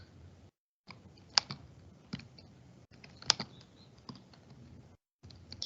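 Keys on a computer keyboard are typed in short, uneven bursts of quiet clicks with brief pauses between, close and fairly faint.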